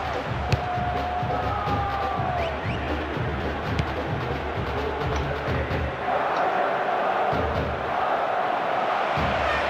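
A video-game stadium crowd in Pro Evolution Soccer 2014, at a Panathinaikos Europa League match, roars steadily and loudly throughout, swelling slightly in the later seconds, with faint whistles and a few sharp knocks.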